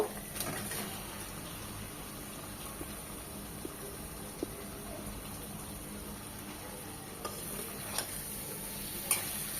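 Fish bones coated with turmeric, chili powder and salt sizzle steadily in a pan, with occasional sharp scrapes and clinks of stirring standing out above the constant frying hiss.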